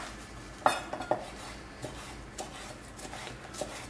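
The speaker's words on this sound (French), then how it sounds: "On va ciseler le coriandre." Coriander being roughly chopped with a knife on a board in a home kitchen, a few sharp close taps and clacks spaced irregularly over quiet background, no talking.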